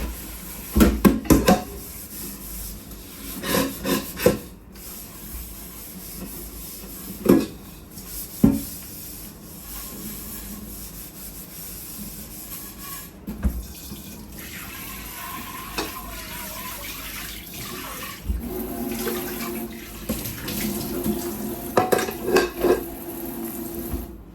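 Dishes and a new sauce pot being washed with soap and water, with scrubbing and rubbing, splashing water and occasional clanks of cookware, fairly close and continuous, with no talking.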